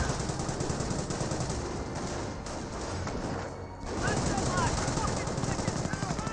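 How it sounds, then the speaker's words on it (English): Machine gun emplacement firing in Company of Heroes, a rapid continuous rattle of automatic fire mixed with battle noise and a commentator talking over it, steady and fairly loud with a short dip midway. "US players pulling out a machine gun emplacement there"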